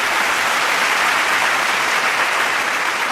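Big, dense applause fills the whole stretch, many hands clapping loudly and continuously at a steady, even level.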